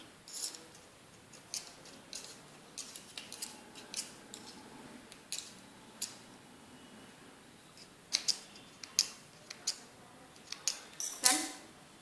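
Scissors snip through fabric to cut a triangular cone shape while sewing a cold-shoulder tunic, a run of sharp, close clicks and short snips in irregular bursts against a quiet room with no talking.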